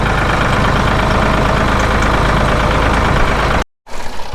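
A Ford 4000 tractor rolling a grass field in high ratio first gear, its engine running loud and steady close by with a knocking idle-like chug, broken by a brief dropout near the end.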